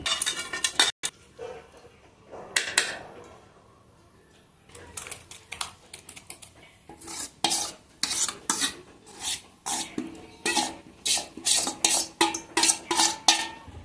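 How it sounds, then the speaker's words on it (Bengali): A metal wok and steamer stand are set up on a home kitchen stove for steaming a banana flower dish. There is a run of sharp scraping and clattering bursts, sparse at first and then rapid and close, with no voices. "ওইটাকে ভাপানোর জন্য কড়াই বসিয়ে দিয়েছি, তাতে কি জল দিয়ে দিয়েছি আর স্ট্যান্ড বসিয়ে দিয়েছি"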